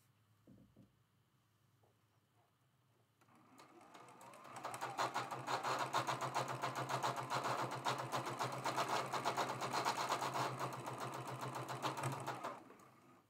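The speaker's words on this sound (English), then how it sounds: "Bobbin's making all kinds of noise. That's letting me know that I have my Singer patchwork bobbin in my Juki machine." A Juki sewing machine fitted with the wrong bobbin, a Singer patchwork bobbin, starts up after a quiet pause. It runs in a fast, steady, rattling stitch for about eight seconds, then stops.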